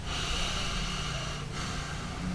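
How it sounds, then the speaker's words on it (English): Steady breathing through the nose, a soft continuous airy hiss heard close up, with a brief dip partway through and no speech. "I breathe through my nose. It makes this sound"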